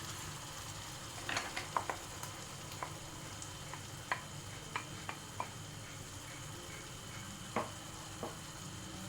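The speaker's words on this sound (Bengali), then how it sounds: "একটু হালকা করে নাড়িয়ে এবারে দিয়ে দেবো পেস্ট করা পালং শাকটা" Spinach paste goes into a frying pan and is stirred while cooking for palak paneer: a quiet, even sizzle runs throughout, dotted with soft, irregular clicks and taps from the spoon against the pan.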